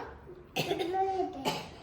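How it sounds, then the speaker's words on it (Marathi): A young child gives a couple of short coughs, close and moderately loud, with a giggly voice between them. "खोकला येतोय"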